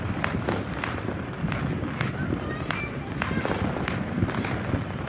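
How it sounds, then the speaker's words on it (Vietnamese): New Year's Eve fireworks and firecrackers go off in a rapid scatter of sharp cracks and pops over a constant crackling hiss. Some snaps land close and some farther off. "Lấy pháo bự đốt luôn là nó không bự lắm."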